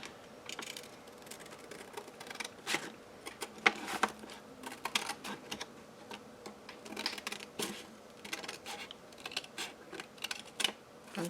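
Big scissors snip through a paper bag in a run of crisp, close cutting sounds, the irregular crunchy snips and paper rustles coming in quick clusters with short pauses, no talking.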